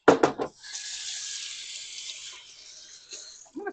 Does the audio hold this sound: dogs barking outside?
no